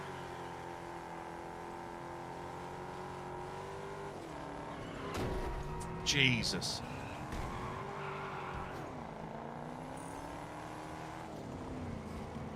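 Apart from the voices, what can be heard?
modified car driving nearby in the video game Test Drive Unlimited Solar Crown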